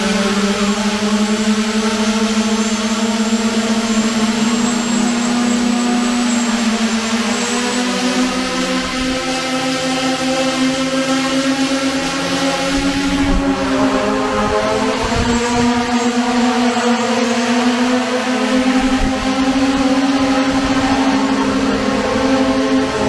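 Homemade turbojet engine running on a test stand, a loud continuous whine with a droning tonal roar that shifts slightly in pitch as it spools, heard from close by without talk.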